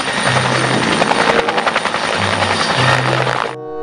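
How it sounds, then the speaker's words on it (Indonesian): A loud, close fire-fighting helicopter with rapid rhythmic rotor thumping and a high turbine whine, which cuts off abruptly near the end. "kalau yang ini helikopter damkar"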